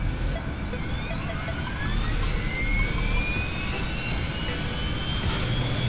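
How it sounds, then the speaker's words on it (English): Aircraft engine number 2 spooling up on a start in the X-Plane 11 flight simulator, a steady jet roar with a rising whine climbing over a few seconds, loud and continuous. "Let's go ahead and fire up number 2"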